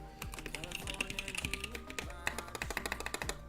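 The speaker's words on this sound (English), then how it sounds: "We are just about to begin some typing tests." Typing on a mechanical keyboard fitted with Zealio V2 switches: a fast, close run of crisp keystroke clacks with uneven rhythm and occasional heavier thocks, heard on its own.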